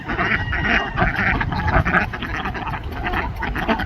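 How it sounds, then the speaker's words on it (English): Several brown ducks quack around a backyard pond, overlapping and steady over a constant wash of water and splashing, fairly close and loud throughout. "We have a few brown ducks."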